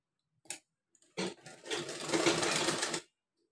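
A sewing machine stitches fabric for a small doll dress. A couple of short clicks come first, then a close buzzing run of stitching that lasts about two seconds before it stops.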